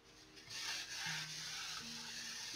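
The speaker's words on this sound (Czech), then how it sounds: "Houbička na nádobí zvládne úplně všechno. Nejen mít nádobí, ale ještě brousit plátno." A dish sponge rubs and sands a painting canvas in steady, close scraping strokes that run continuously for a few seconds, with a faint low hum beneath.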